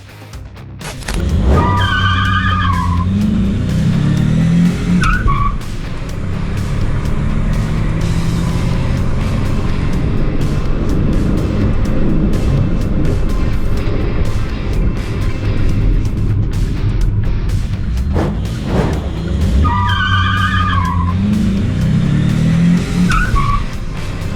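A 1.6 Volkswagen Polo hot hatch with an aftermarket exhaust revs hard with a raspy exhaust note, rising and falling through gears, loud and close, with tire squeal at the start and end.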